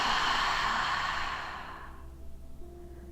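A single long, deep exhale through the mouth at the close of a chair yoga breathing exercise, a breathy rush that starts fairly loud, then softens and fades away over about two seconds.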